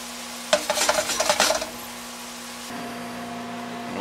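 Ham browning in a frying pan for a working man's breakfast, with a burst of scraping and clattering stirring sounds up close before settling into a steady, quieter sizzle with a low hum.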